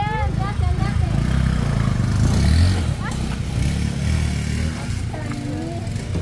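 A motorcycle engine revs loudly and roughly up close, the throbbing drone sustained throughout as people talk over it on a rural track just before the bike falls over.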